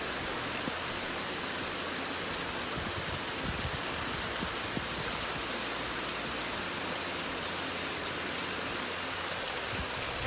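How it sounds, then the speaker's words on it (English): Heavy morning rain in India pours down in a dense, steady hiss of countless raindrops drumming on surfaces, close and continuous with no voices. "I made you hear the raindrops. It was heavily raining."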